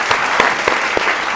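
Audience applause fills the room in a steady, dense wash of clapping from a crowd, sustained at an even level throughout with a few sharper individual claps standing out.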